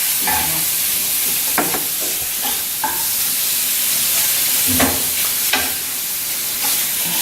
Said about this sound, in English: Then I'll put a bit of boiling water on it.